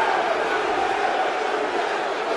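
A large wrestling arena crowd roars and chants at a wrestling event, a dense sustained wall of voices that fills the space, loud and continuous for a couple of seconds.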